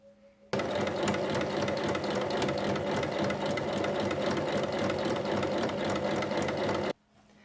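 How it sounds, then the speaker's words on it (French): A sewing machine stitches a pouch lining 1 cm from the edge, a fast steady mechanical rattle that starts abruptly, runs loud and unbroken for about six seconds, then stops sharply. "Et on vient piquer à 1 cm du bord."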